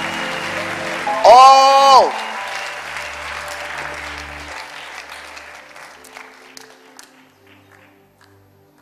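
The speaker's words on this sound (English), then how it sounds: "Clap for them, clap for them, clap for them" Congregation applauding at a Sunday worship service, a loud burst of clapping that fades under a preacher's voice and a sharp exclaimed shout, then thins out into quieter murmur.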